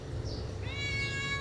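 A cat near grilled fish and eggplant lets out a clear, close meow with a rising tone, heard alone over a low background hum.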